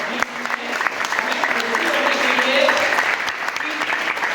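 Audience applause at a big planning meeting, dense and fairly loud, with a few voices mixed in beneath the clapping.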